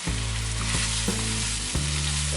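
Garlic sizzling in hot oil with softened onion in a pan, a steady close frying hiss with a few brief stirring scrapes, no voices.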